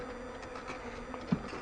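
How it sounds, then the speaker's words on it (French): Honeybees drone around their hives inside an anti-hornet tent at an apiary in Vigneux, forming a steady, faint, continuous buzz with one brief louder knock. "Là, il y a un petit peu trop d'abeilles."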